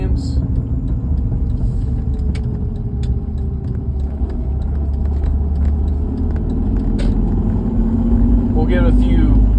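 A chassis-mounted car engine accelerates toward a highway merge, with deep, loud rumbling and rising engine tones broken by quick gear shifts, plus scattered rattles and clicks close by.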